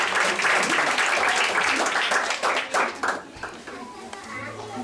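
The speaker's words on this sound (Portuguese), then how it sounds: "Vocês podem aplaudir o Senhor?" A children's church congress audience claps and applauds loudly for a few seconds, then the clapping thins and fades, with voices, including children's, mixed in.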